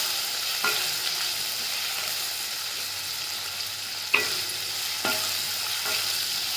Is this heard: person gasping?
no